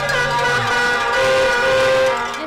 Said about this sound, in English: blaring horns,